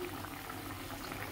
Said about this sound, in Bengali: একটু ফুটুক, ফুটলে